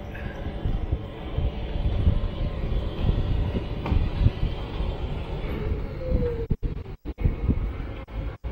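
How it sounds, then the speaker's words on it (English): Inside Dubai airport, a steady low roar of aircraft engines and terminal rumble carries on without a break, with a few brief clicks near the end. "We are at the Dubai airport."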